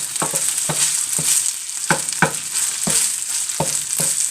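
Leftover rice heats in a hot pan with teriyaki sauce, giving a steady bright sizzle while a utensil scrapes and stirs in a loose rhythm of repeated strokes. The sound is close and no one speaks.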